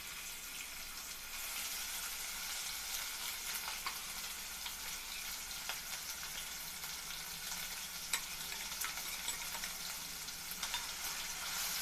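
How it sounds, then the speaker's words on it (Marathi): Sautéing paste of onion, coconut, ginger, garlic and green chilli with a little coriander for Marathi katachi amti, giving a steady, dense sizzle throughout with faint stirring scrapes and no talking. "हे छान परतून घेऊया।"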